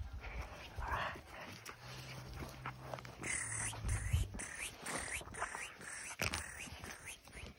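Young Presa Canario puppies of a working bloodline whimper and whine softly in repeated short high cries, with faint shuffling and movement nearby at low volume.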